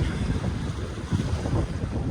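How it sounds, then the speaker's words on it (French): Strong wind of about 15 knots buffeting the microphone over a low, continuous roar of open sea off the east coast of the Peloponnese, Greece, loud and unbroken. "Le vent s'est levé"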